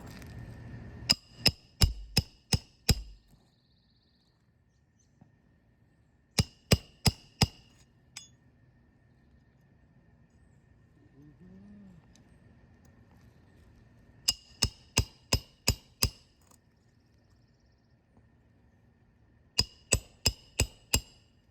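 A hammer strikes roof shingles worn thin by granule loss in quick bursts of four to six sharp, ringing blows, separated by pauses, each hit crisp and close.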